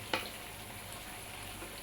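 Salted fish frying in a pan at home, a steady soft crackling sizzle with one brief louder pop near the start, fairly quiet and continuous.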